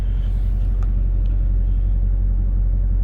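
A 2007 GMC Sierra 2500 pickup with an LBZ Duramax turbo diesel and six-speed Allison transmission idles after a cold start, giving a steady, deep, close rumble with no voices.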